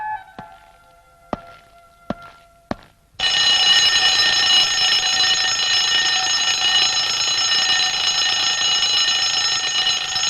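An alarm clock, set for 4 in the morning, rings loud and close in a continuous bright electronic trill after a few sharp knocks, sustained without a break for about seven seconds.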